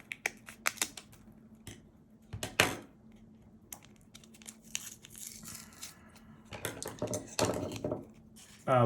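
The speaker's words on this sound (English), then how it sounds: "the new batteries usually will have a child lock, so you need to cut it." Hard plastic child-lock blister packaging around new replacement batteries for a 2015 Honda Civic keyless remote being cut open, heard as close crinkling, snipping and clicking plastic in irregular bursts, busier toward the end.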